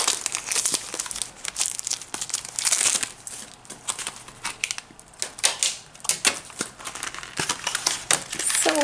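Plastic packaging from Shopkins Season 8 toys crinkles and crackles up close in dense, irregular bursts of sharp rustling, with no talking.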